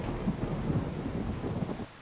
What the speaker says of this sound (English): And now it's starting to rain. Oh, lightning.